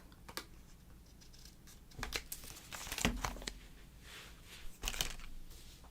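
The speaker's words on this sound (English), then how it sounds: "I'm just going to flip it over and just trim that off" Mirror cardstock being trimmed for a mini album, with a few close, quiet snips and crinkling rustles of the sheet spread across several seconds, no voices.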